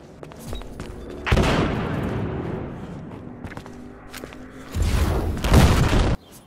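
A grenade blast and gunfire in the online shooter Battlefield Hardline on PS4: heavy booming bursts mixed with rattling shots, one large blast early and another dense barrage near the end, loud and close with no talk.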